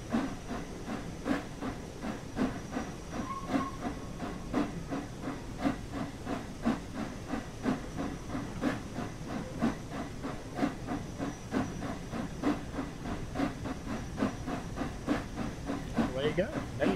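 A steam locomotive in Train Sim World 4 hisses steadily as it pulls away, with a fast rhythmic chuffing beat running throughout.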